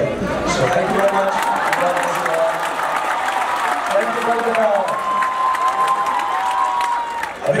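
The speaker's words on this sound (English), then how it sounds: "A big round of applause for all of you again" A large festival audience at the Kolkata International Film Festival applauds and cheers loudly and steadily throughout, with crowd noise and voices mixed into the sustained clapping.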